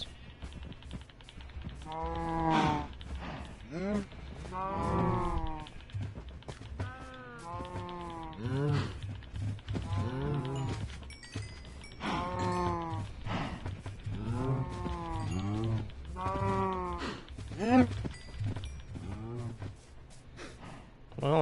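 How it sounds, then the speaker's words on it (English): Cows in Minecraft give a series of repeated low, drawn-out moos, one after another at close range, some overlapping, with no talk over them. "And now the cows."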